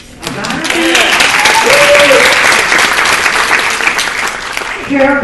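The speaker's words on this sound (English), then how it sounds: "Maybe you should all clap extra hard for Brooke, because I got her to dance today" Audience applauding at an event, dense sustained clapping that swells quickly and holds steady, with a voice speaking over it at the start and end.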